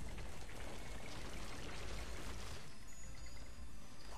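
Water pours and streams in the game Trine 2, a loud splashing flow that thins out midway into lighter trickling and dripping, with no voices.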